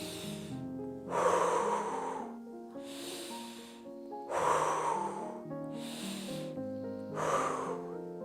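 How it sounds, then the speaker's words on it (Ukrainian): A child does a breathing exercise, drawing air in through the nose and blowing it out through the mouth, with three loud breathy exhales spaced a few seconds apart. Gentle music plays underneath. "Набираємо повітря в носик. Видихаємо ротиком."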